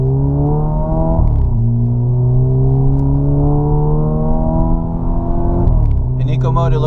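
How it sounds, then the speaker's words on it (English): A 2013 Dodge Dart in eco mode accelerates hard from inside the cabin, engine revs climbing through the gears with shifts audible, loud and steady. "Let's step on the gas."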